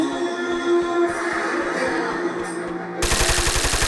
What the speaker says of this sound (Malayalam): ഇത് ഇവിടുന്ന് വെടി പോണത്